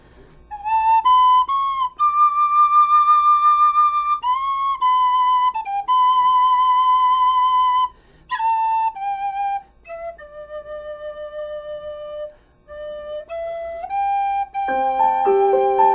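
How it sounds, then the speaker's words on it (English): A penny whistle plays a slow Irish folk tune, The Water Is Wide, with clear, bright sustained notes and short breaths between phrases, loud and close with no voices. "I'll start by playing my penny whistle"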